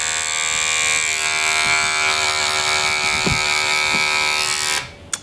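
A steady, close electric razor buzz while shaving leg hair runs throughout, loud and continuous, with a few faint bumps before it cuts off near the end.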